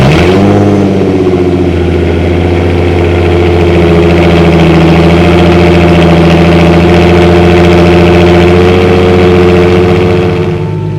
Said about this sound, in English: So we will do a cold start, see what it sounds like.